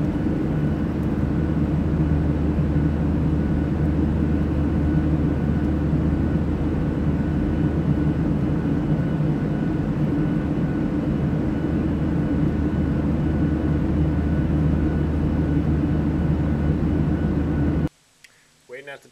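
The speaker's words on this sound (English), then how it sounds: "Waiting at the terminal right now for my plane to Bangkok." A low, steady aircraft-like drone fills an airport terminal where a traveler waits for a plane to Bangkok, continuous and evenly loud until it cuts off abruptly near the end.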